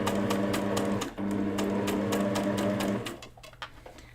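Sewing machine stitching rounded corners, a loud close rapid mechanical whir that runs steadily, pauses briefly, resumes, then stops, followed by faint handling clicks.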